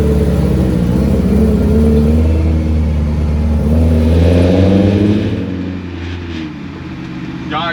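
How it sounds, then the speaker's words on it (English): A BMW E30 fitted with an S65 V8 drives through Bangkok streets, its engine rumbling and revving up loudly and close before easing off to a lower, quieter drone. "my S65 V8 SWAT BMW E30, and we're hitting the streets of Bangkok"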